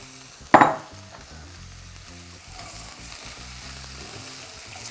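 Zucchini sautéing with softened onion and lightly browned garlic in a pan, opening with a sharp clatter as it goes in, then a low, steady sizzle with some faint stirring.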